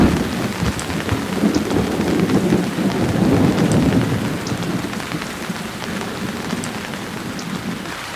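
Heavy downpour during the first big storm of the rainy season on a Nigerian city beach: dense, loud rain hisses continuously up close, with deep rumbling thunder rolling underneath and no voices.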